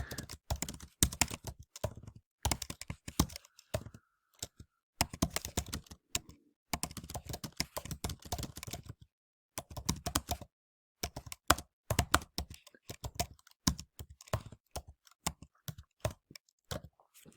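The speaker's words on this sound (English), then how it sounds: "Okay, we can type here." Rapid, uneven bursts of keystrokes on a computer keyboard, typed close by in a quiet room, with several short pauses between runs of clicks.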